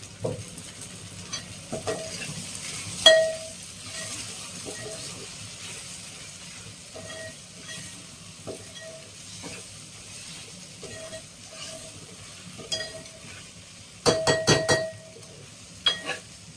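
Sliced okra (ladies finger) fries quietly in a pan with a soft, steady sizzle, broken by occasional stirring scrapes and a cluster of sharp clinks near the end.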